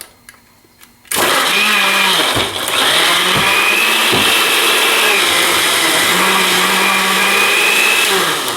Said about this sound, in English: it's that fast with a good commercial blender